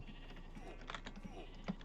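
Sheep in the Minecraft Skyblock video game bleat a few times, faint and synthetic, over soft, continuous computer keyboard typing.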